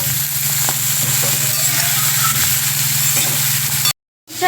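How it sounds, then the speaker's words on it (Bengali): Potato peels and cauliflower stalks fry in a pan with a steady, loud sizzle and a low constant hum. The sizzle runs unbroken, then drops out abruptly near the end. "1 মিনিটের মতন হলুদ ছাড়া ভেজে নেব।"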